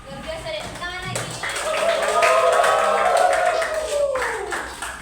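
A classroom of students claps together in a sustained round of applause that swells and then fades, with a teacher's voice and chatter mixed underneath.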